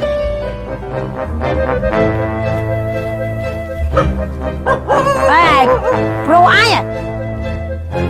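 A dog yips and barks in a Cambodian TV drama scene, short sharp cries rising near the end, mixed with loud voices and background music.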